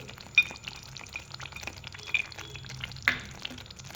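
A spoon stirs cashews into a thick, simmering masala gravy in a pan for a dhaba-style kaju masala, making low, wet stirring noises broken by three sharp metallic clinks.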